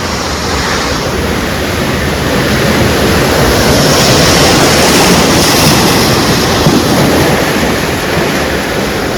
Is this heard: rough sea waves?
yes